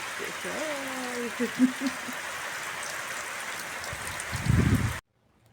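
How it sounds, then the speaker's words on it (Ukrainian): Steady rain falling outdoors, a continuous soft hiss of drops throughout, with a voice speaking briefly early on and a short louder patter near the end before it stops. "Ось такий то наш дощ."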